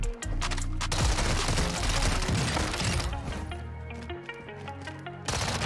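Uzi gunfire in Warzone 2, a dense sustained burst of rapid shots with cracks and impacts lasting several seconds, loud and close.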